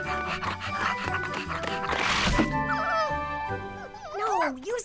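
A small dog yips and whimpers over background music, with people talking nearby; the barks are short and high-pitched.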